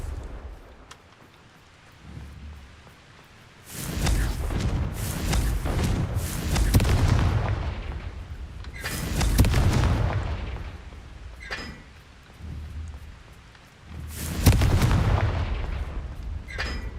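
Confringo fire spells explode in Hogwarts Legacy in a series of heavy, rumbling booms that come in waves, with quieter stretches of low rumble between them.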